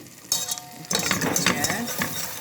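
Flour being stirred into melted butter in a pot: a close, scraping stir with light clinks of utensil on metal over a soft sizzle, continuous after a brief quiet start.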